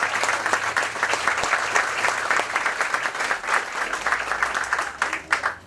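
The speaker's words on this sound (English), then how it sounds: "So everybody give Smiley a round of applause." A school audience applauds the mascot Smiley, a steady crowd clapping of many hands at moderate volume, dense and even for the whole stretch with a few sharper claps near the end.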